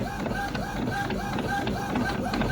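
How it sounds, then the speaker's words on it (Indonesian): An Epson L220 inkjet printer runs a print job sent from a Redmi Pad tablet, giving a steady mechanical whir with repeating clicks and whines as the print head shuttles back and forth, close and continuous. "kita tekan print lagi. Nah, sekarang printernya sudah bisa dipakai ya"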